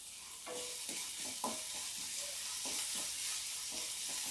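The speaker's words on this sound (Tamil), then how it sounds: "இந்த பச்சை ஸ்மெல் போகிற அளவுக்கு வதக்கிக்கலாம்" Steady sizzling of chopped ginger and garlic sautéing in a hot pan with occasional stirring scrapes, moderately close, continuous throughout without voices.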